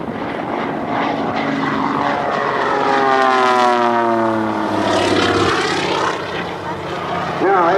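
A propeller racing airplane, styled after golden-age air racers, roars past nearby at an airshow, its engine pitch sweeping as it passes, loud and sustained with a voice talking over it.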